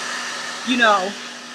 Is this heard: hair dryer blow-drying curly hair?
yes